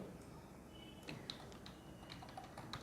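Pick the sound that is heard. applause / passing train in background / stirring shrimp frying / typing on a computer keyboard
typing on a computer keyboard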